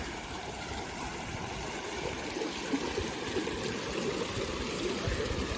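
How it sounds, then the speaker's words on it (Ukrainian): Water flows and splashes continuously in a fountain on a university campus in Vienna, Austria, a steady close-up rush with no talking over it. "Тут теж такий цікавий фонтанчик."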